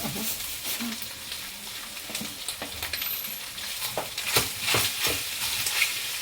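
A spoon stirs ground meat into pansit bihon in a sizzling frying pan, with repeated scraping strokes over a steady fry, close and fairly loud.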